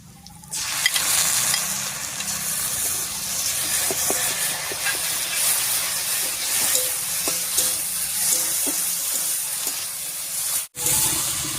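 Ground spice paste hits hot oil over lightly browned onions, giving a loud, steady sizzle and hiss close up, with faint stirring scrapes and a brief break near the end.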